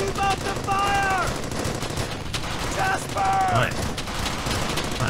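Machine-gun and rifle fire rattles steadily in Brothers in Arms: Hell's Highway, a World War II shooter, with loud sustained bursts while voices shout orders over the battle.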